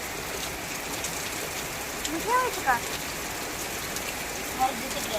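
Rain falling outdoors, a steady wash of drops under a voice talking at intervals, with a few brief louder sounds standing out.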